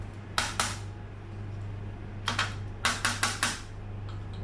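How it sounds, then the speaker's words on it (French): Tin brioche moulds are tapped against a baking tray in sharp metallic clicks: two quick taps, a pause, then a rapid run of about six taps, close and fairly loud over a low hum. "Vous tapez un petit peu sur la plaque."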